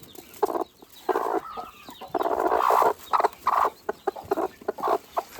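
A young first-time mother hen clucks with her newly hatched chick in a nursery coop, making a rapid run of close, fairly loud clucks and calls with no talk over them.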